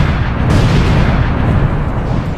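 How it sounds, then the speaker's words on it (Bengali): Sticky bombs detonating in a video game, a dense, loud roar of blasts that fills the short stretch without letting up, with no talking. "এখানে আমি অনেকগুলো স্টিকি বম লাগিয়ে দিয়েছি এবার এগুলো ব্লাস্ট করতে হবে"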